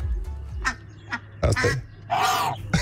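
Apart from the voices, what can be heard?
Indian runner ducks quacking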